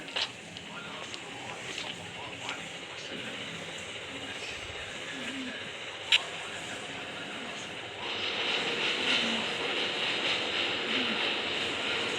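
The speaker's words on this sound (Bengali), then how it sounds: "ট্রেন চলে এসছে, আমাদের ট্রেন।" A train in the mobile game Indian Bike Driving 3D gives a steady, continuous rumble with a faint click near the middle, growing a little louder and brighter toward the end.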